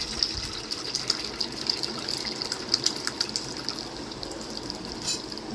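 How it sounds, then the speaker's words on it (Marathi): Water pours and splashes continuously over paneer nearby, a steady gushing stream with small rhythmic sloshes. "पाणी ओतून घ्यायचं"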